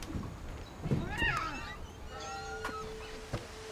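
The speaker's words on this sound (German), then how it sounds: "ich höre die Katze" A cat meows in the video game What Remains of Edith Finch, a rising, drawn-out call near the start followed by fainter tonal game sounds, with someone talking over the scene.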